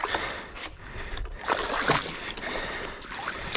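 Water rushes and sloshes through a gap in a beaver dam in a swampy creek, with close, uneven splashing and gurgling that surges in short bursts over a few seconds.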